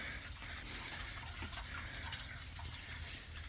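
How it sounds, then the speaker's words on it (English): Water trickles and flows steadily into a newly dug well after the pump is shut off, a soft, continuous wash with faint drips, no voices. "That is our water flow into our well."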